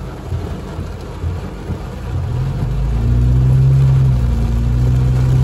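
Heavy monsoon rain drumming on a car in the mountains of Big Bear, with a low, rolling thunder rumble building over the steady downpour, heard close from inside the car.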